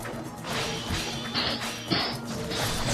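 Enemies being smashed in Ninja Gaiden Black, repeated heavy crashing impacts and whooshing strikes over a driving game soundtrack, loud and close with several hits in quick succession.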